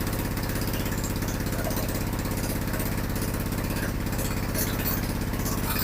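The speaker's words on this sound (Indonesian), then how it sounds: "Terakhir suara mesin pun agak terasa lebih berat." A small engine runs steadily under heavy load, cutting hard material, with a low, throbbing chug, close and loud, its tone strained and rough throughout.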